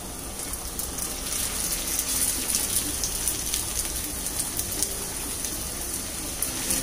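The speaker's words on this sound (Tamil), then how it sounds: "இப்போ இதில் நம்ம செஞ்சு வச்சுருக்க புரோட்டாவை போட்டு ஃப்ரை பண்ணி எடுத்துக்கலாம்." Thick Madurai street-style bun parotta fries in oil on a hot griddle, giving a dense, steady sizzle and crackle that holds at an even level throughout, with no speech over it.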